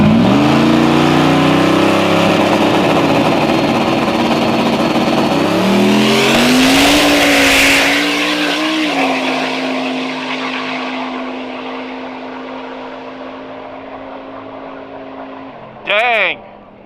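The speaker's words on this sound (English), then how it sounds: "And his lovely wife, Kimmy, down here making some test passes." A drag race car makes a test pass at St Thomas Dragway on a Friday night, its loud engine roaring and climbing in pitch to a peak, then fading as it pulls away, with a brief sharp burst near the end.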